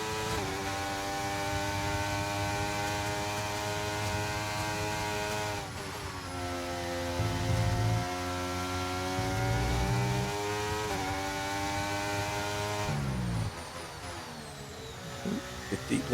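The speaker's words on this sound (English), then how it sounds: "Despite the horrible tractor-like noises that I've got in my headset." Distorted, tractor-like car engine drone from a racing game heard through a headset, a steady buzzy hum that shifts pitch at gear changes around six and thirteen seconds, fairly quiet and continuous without talk.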